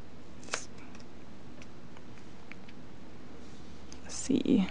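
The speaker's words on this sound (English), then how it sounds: "So straight, short snips," Scissors snip an unmounted rubber stamp with straight, short cuts: one crisp snip early on, then a louder cluster of snips near the end, close to the listener against a quiet room.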